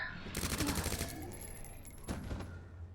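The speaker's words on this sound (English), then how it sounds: "Hear gunfire." Rapid bursts of video game gunfire crackle in a dense volley, then ease off and return in a shorter burst, with a faint high tone running through it.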